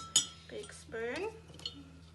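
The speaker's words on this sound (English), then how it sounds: "And we need to stir. Stir with a spoon. Big spoon." A big metal spoon stirs sugar into homemade lemonade, giving several sharp clinks against the container over a couple of seconds, quiet and close, with a voice speaking briefly in between.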